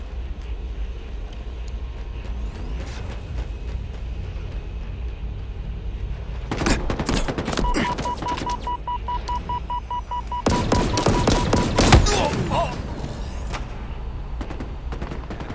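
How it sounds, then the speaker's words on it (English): Gunfire erupts in the Halo Infinite video game: two loud bursts of rapid automatic shots, close and intense, over a low rumbling game background with a faint electronic tone between them. "Taking fire!"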